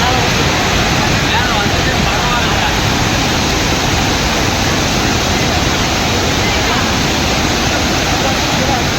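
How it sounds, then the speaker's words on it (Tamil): Flood water rushes down the Kannimar stream in the Salem hills, a loud, dense, unbroken roar that holds steady from start to finish. "சேலம் கந்தாசிரமம் மலைப்பகுதியில் உள்ள கன்னிமார் ஓடையில் வெள்ளம் கரை புரண்டு ஓடியது."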